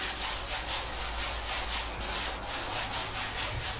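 Tung oil worked by hand into the grain of a wooden worktop, a continuous close rubbing and scrubbing with a gentle back-and-forth rhythm and no voices.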